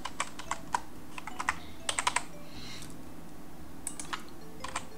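Typing code on a computer keyboard, with quick clusters of crisp key clicks in short bursts separated by pauses, close and fairly quiet.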